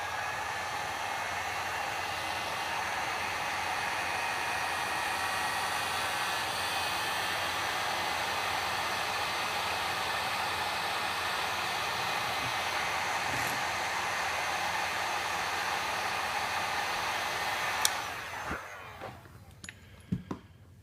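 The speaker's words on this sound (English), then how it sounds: "then use a heat gun to shrink the tubing" A heat gun blows steadily on heat-shrink tubing over a soldered PL-259 connector on LMR-400 coax: a continuous airy hiss that holds for most of the stretch. It cuts off near the end and a few small clicks follow.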